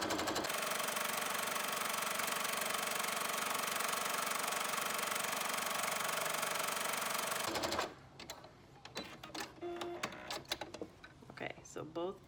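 Sewing machine running a zigzag stitch on a fabric pleated mask, a fast continuous mechanical whir for several seconds that stops abruptly, followed by quieter handling clicks and rustles.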